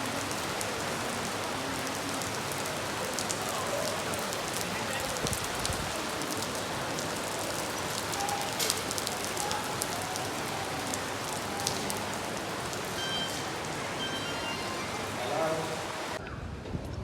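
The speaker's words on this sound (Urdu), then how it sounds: "بارش کے واسطے پتہ چل رہا ہے بارش کتنی تیز ہے۔" Heavy rain pours steadily in London, a dense, loud hiss of drops drumming on surfaces that continues unbroken with scattered louder splats.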